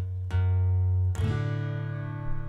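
Two plucked guitar notes in succession on the top string, each ringing out clearly and decaying slowly, played alone and quietly.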